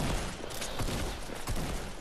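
Rapid Fortnite gunfire crackles through a dense, busy game mix, with several sharp shots across two seconds.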